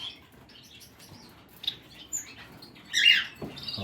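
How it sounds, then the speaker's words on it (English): Society finches in a breeding room squawk and chirp in short bursts, with a brief louder flurry of calls near the end over a quiet background. "I've got some society finches fostering either some cutthroats or amidamia, so they started squawking."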